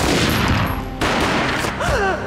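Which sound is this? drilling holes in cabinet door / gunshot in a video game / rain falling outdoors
gunshot in a video game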